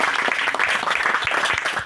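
Hearty audience applause at the closing-day ceremony of an organic farming training, with fast, dense clapping and distinct individual claps standing out for about two seconds.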